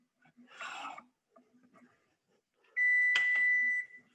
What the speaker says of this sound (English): My oven's preheated, everything's beeping at me.